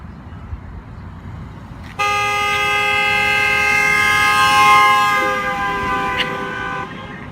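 A train horn blares in suddenly after a quiet stretch, holding a loud sustained chord for about five seconds over rumbling wheels before cutting off, its pitch sliding slightly as it passes.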